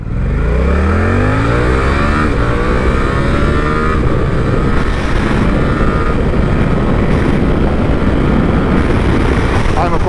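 Suzuki GSX-8R motorcycle, 2024 model, accelerating hard on the road, engine pitch sweeping upward through the gears with loud, steady wind and engine roar throughout.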